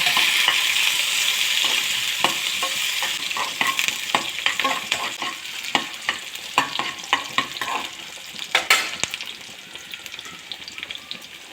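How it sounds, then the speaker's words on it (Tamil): Chopped onions and curry leaves sauté in a pan, a steady close sizzle broken by repeated clinks and scrapes of a stirring spoon that grow busier toward the end, with no talking. "அப்புறம் சிறிதளவு பொடியாக அரிஞ்சு வச்சு வெங்காயம் சேர்த்துக்கோங்க. வதக்கி விடுங்க."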